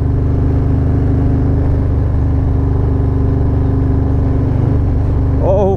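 A Harley-Davidson Low Rider ST motorcycle rumbles loud and close while being ridden, its deep, steady engine drone continuous throughout with a slight rise in pitch toward the end.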